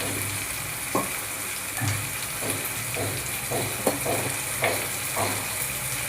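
Spices with turmeric, coriander powder and salt frying in a pan for a katla fish dish, a continuous close sizzle broken by repeated scraping stirs at an uneven rhythm.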